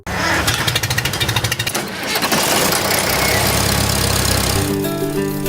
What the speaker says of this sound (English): Go out there and hear that engine run.